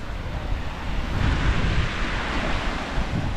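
Waves wash along the Daugava river, a broad, loud, continuous rushing swell mixed with wind buffeting the microphone, swelling slightly in the middle.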